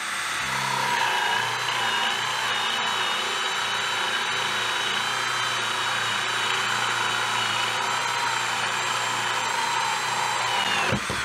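An AEG BSB18BL cordless drill bores into a wooden block, a steady, loud, high-pitched motor whine running close and unbroken before spinning down at the end.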